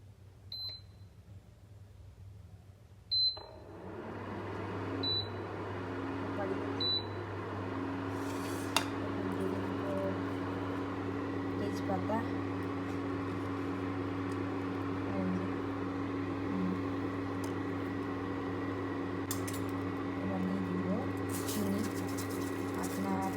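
An induction cooktop heating a bowl of milk, a few sharp control beeps before a steady electronic hum sets in and continues, with faint clinks and a voice speaking over it.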